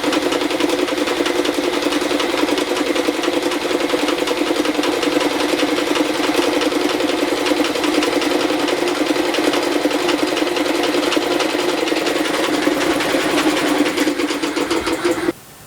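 A 220 volt electric motor spins a flywheel with a loud, steady mechanical whir and hum that holds constant, then cuts off abruptly at the end.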